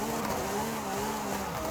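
A Lamborghini SC20 V12 engine in Forza Horizon 5 with its stock, unchangeable exhaust, a steady droning hum held at an even pitch, heard alone for a brief moment.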